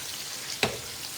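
Potatoes and onions frying in a pan give a steady, moderate sizzle, with one brief louder crackle or stir partway through and no voices.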